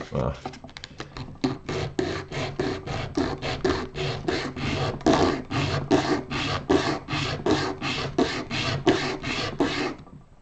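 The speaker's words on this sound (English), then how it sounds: "I will sand the edge a bit" The edge of a workpiece is sanded while building a Phantom Octave guitar effects pedal, with about two dozen quick, even back-and-forth rasping strokes, close and loud.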